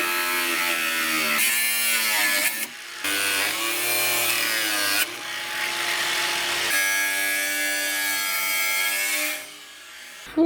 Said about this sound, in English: we're going to use the old Tool Pro to just take off those bolts